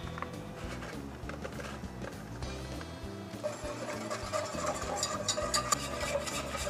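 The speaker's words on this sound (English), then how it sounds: "Make sure the packet's nice and dissolved. And break up the peppers just a little bit with your whisk." A whisk stirs BBQ sauce with chipotle ranch seasoning and peppers in a pot, a continuous scraping swish against the metal that grows busier and louder toward the end, heard close up with no talk.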